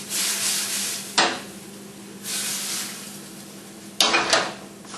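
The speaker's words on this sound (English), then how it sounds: "That coal hit that olive oil and it had to sizzle a little bit." Olive oil sizzles and crackles in a hot pan over coals in loud bursts that rise and fade, with a couple of sharp clinks of utensils against the pan.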